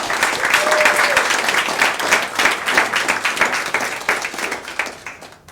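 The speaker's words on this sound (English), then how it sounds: "Give her a round of applause." An audience at a gathering honouring war veterans applauds for a female veteran, giving loud, even clapping that holds for several seconds and then tapers off into scattered claps.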